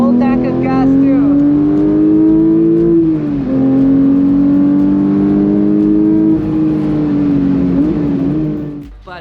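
A Porsche GT3 engine revs and holds a high, steady drone around 7,000 RPM, dipping briefly and climbing again several times, loud and close, with a voice speaking over it.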